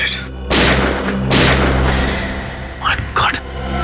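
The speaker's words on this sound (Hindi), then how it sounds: "गोली चलने की आवाज।" Gunfire in a crime-drama scene: two loud, booming shots about a second apart, close and heavy, followed by a few short voice-like sounds.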